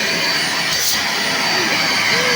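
Vacuum cleaner running steadily with strong suction, a loud continuous broadband whoosh close by with a brief airy surge partway through; people talk over it.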